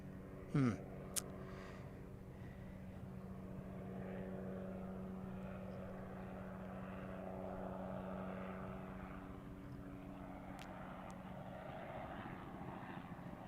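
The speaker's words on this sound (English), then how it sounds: "I hear some more F-16s" Distant F-16 fighter jet engines drone steadily for a long stretch at an airport, a low continuous rumble with a brief click near the start.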